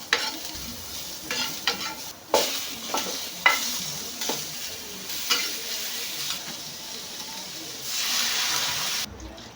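Chopped onion and ginger sauté in a little oil, giving a steady sizzle broken by repeated scraping stirs of a utensil against the pan, close and fairly loud.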